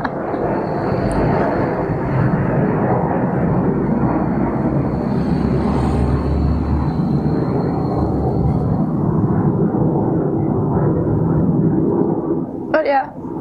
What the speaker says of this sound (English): A plane and a car at the same time.